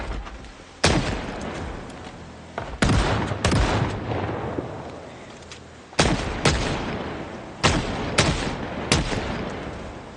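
Gunshots ring out in the video game Project Zomboid, roughly ten sharp, loud reports fired singly and in quick pairs at irregular intervals, each trailing off in a short echoing decay.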